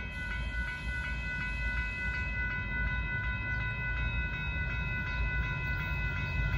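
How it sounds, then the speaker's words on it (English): A Union Pacific intermodal freight train rumbles past nearby at speed with a steady roar and rhythmic wheel clatter over rail joints, loud and continuous throughout. "Oh, that Z train is flying."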